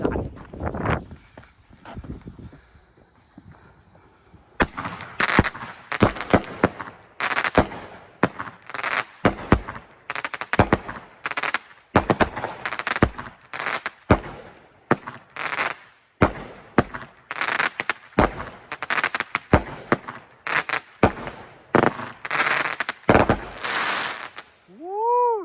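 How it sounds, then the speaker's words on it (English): A Die Hard 16-shot 200g firework cake by Pro Fireworks fires outdoors, a long run of loud sharp bangs and cracks in rapid uneven succession, each followed by fizzing and crackle, ending with a rising whistle. "here goes Die Hard, 16 shot by Pro Fireworks and Black Diamond brand"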